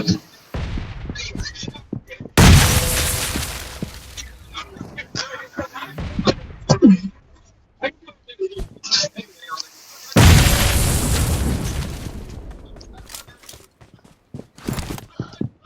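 Two loud bursts of bomb explosions in the mobile battle royale game BGMI on the Rondo map, roaring over several seconds, with clicks, thuds and voices talking between them.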